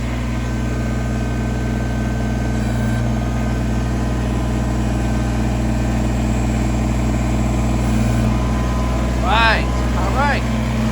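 A Kubota tractor engine running steadily at a low, even idle, a constant close drone with no clear start captured, joined near the end by a couple of faint chirps.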